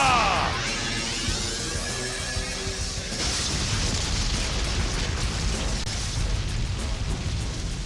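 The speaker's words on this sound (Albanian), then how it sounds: "Shpërthimi i fuqis ultra!" A cartoon ultra power blast from the animated series Daigunder erupts as a loud, dense roar filling the whole stretch, with a bright crackling burst at the start fading into a continuous rushing wash.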